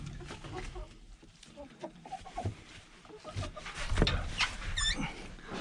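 Backyard chickens cluck softly and intermittently nearby while being watered, with scattered low bawks and a brief higher squawk near the end over faint background noise.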